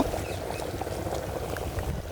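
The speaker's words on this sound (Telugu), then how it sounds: "బాగా మరుగుతుంది చూసారా" Chicken sherva bubbling at a steady boil in a pot, a dense continuous simmering wash of small bubbles and gurgles, close and moderately loud throughout with no talking.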